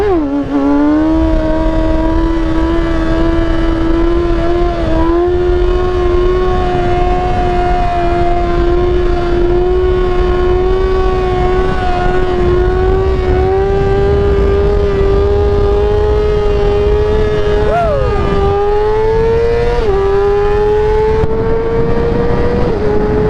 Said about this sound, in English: Hold on, I gotta get another wheelie here.